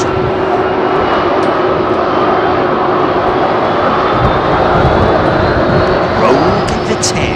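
Jet airliner powered by CFM56 engines taking off from runway 27R at London Heathrow, a loud, steady roaring engine rumble with a whining high-pitched tone that holds throughout, close by and with no voices.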